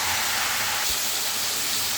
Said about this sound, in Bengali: দেখুন মাঝখানে আমি মশলাগুলো তেলের ভিতরে সুন্দর করে কষিয়ে নিচ্ছি।